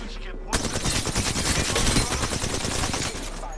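Rapid automatic gunfire from an Apex Legends firefight bursts in close and loud, a dense sustained stream of shots lasting about three seconds after a brief quiet start.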